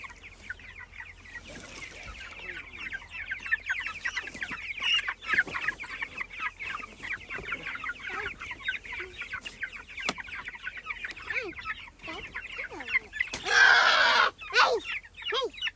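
Chickens clucking steadily and murmuring close by as they are loaded into a rebuilt chicken tractor, with a louder burst of squawking near the end.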